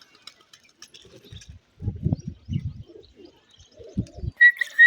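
A pigeon coos nearby in soft, low, throaty bursts, a few rounds of murmuring calls separated by pauses, with faint chirps from other birds in the background.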